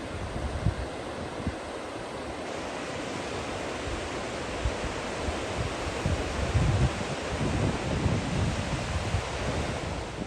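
A waterfall in the Alaskan mountains, on a Dall sheep hunt, sends up a continuous broad rushing roar that stays steady for about ten seconds, mixed with low wind buffeting on the microphone and no talking.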